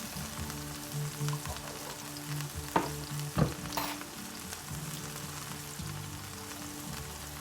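Garlic paste fries in a pan for a vegetable omelette, giving a quiet, steady sizzle with soft crackles and a couple of sharp scraping taps from stirring partway through.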